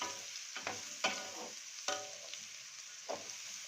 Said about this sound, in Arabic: هنشوح البصل لحد ما يدبل معانا